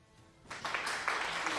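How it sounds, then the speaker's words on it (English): Streamed applause sound effect, a short burst of clapping that swells in abruptly after a quiet moment and carries on softly to the end. "I'm going to do a little applause"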